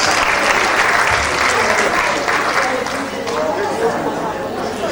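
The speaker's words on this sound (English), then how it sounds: "Please some round of applause for her" Audience applause at a midwifery conference in Nigeria, a loud, steady wash of clapping filling the hall with chatter mixed in throughout.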